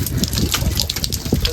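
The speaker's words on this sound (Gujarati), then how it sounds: "પથ્થરો માંથી પાણી આવે જો" Water gushes from the rocks of a mountain on Girnar, a steady rushing, splashing flow heard up close that fills the whole moment, with a little wind mixed in.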